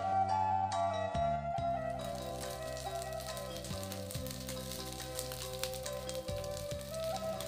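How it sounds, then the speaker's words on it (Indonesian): Satay meat searing in a little cooking oil on a Teflon pan, a steady crackling sizzle running throughout at close range with music playing over it. "Sudah tu kita bakar sebentar sampai daging ko berwarna kecoklatan"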